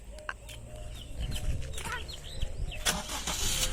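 A Ciaz car's engine and exhaust run close by at a steady, moderate level, with a few rising bursts as it revs. A rooster crows and birds chirp in the background.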